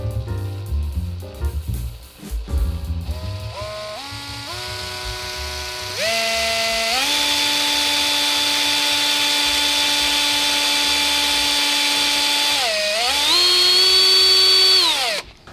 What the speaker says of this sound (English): but I'm fairly confident with the hand drill